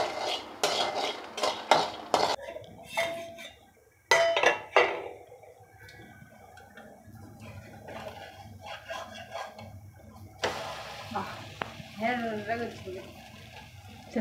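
Peanuts and coriander seeds roasting in a pan, with a metal spoon scraping and clinking against the pan in irregular bursts, close and clear, while a voice talks over parts of it.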